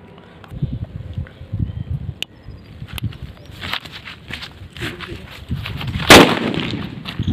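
A Betaab sutli bomb firecracker is set off during Diwali cracker testing: scattered rustling and footstep-like noises lead up to a single loud, sharp blast near the end, followed by a short ringing tail.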